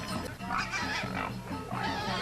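A pig wrapped in white cloth, its head decorated with flowers and incense, is led toward a temple during the Ngusaba Bukakak ceremony in Sudaji, Bali; it grunts and snorts repeatedly and close by over faint background bustle.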